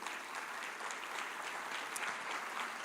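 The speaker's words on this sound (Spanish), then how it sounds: "¿Le puedes dar un fuerte aplauso al Señor Jesús?" Congregation in a church service giving a loud round of applause to the Lord, dense continuous clapping from many hands, fairly distant and even throughout.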